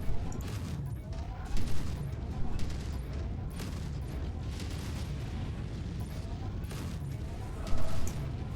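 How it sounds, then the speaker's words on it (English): Missiles and weapon fire pound away in a MechWarrior 5 Mercenaries battle, a dense, continuous barrage of blasts and mechanical clatter with louder bursts near the start and end. "Clearly there's missiles that are incoming."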